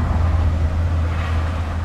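Large vehicles pass on a busy roadside, a loud, continuous low engine rumble and drone filling the whole moment without speech.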